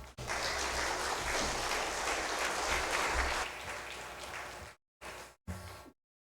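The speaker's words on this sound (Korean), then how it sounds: "나오실 때 많은 박수를 부탁드립니다." Congregation applauding in a church during a Sunday afternoon worship service, a dense, steady wash of clapping that stays loud for several seconds, then thins and cuts off in a few short final bursts.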